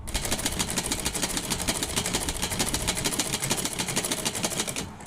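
A sewing machine runs steadily, stitching a half-inch diagonal seam on folded old saree fabric being made into a gown. The rapid mechanical chatter stays close and continuous for about five seconds, then stops abruptly near the end.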